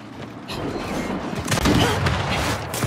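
Gunfire in the video game Gears 5 during a Dodgeball match on the Asylum map, dense bursts of shots and booms rolling on without a break, rising louder toward the middle, with brief voice chat over the top.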